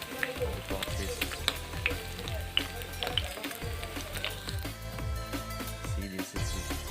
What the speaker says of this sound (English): this amount of oil is now released to the fat of the pork pieces.